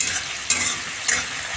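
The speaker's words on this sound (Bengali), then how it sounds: "পেঁয়াজটা যতক্ষণ না হচ্ছে ততক্ষণ চালাচ্ছে।" Chopped onions fry in hot oil in a pan, a steady bright sizzle with a couple of brief scraping stirs, loud and close with no voices.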